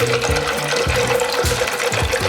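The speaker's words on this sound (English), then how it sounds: "So I was going to pour this in." Ginger beer poured from a bottle into a glass, a continuous fizzy splashing and gurgling stream with regular low glugs, close and fairly loud, with no talk.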